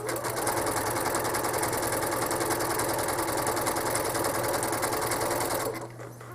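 A home sewing machine machine-quilts a quilt, running with a steady, fast mechanical whir and rhythmic needle clatter throughout before stopping near the end, close and alone without talk.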